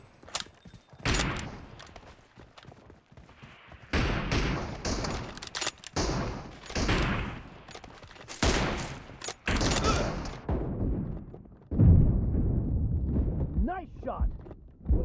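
Gunfire in a shooting video game, dense bursts of rapid automatic shots and booms filling most of the stretch, loud and close, with a game voice announcer calling out in between.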